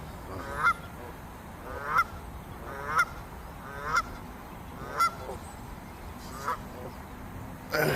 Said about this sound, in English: So here's these geese.